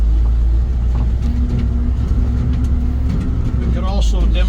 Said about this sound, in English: We're in the outback here, so we'll start with a run through the gears in second.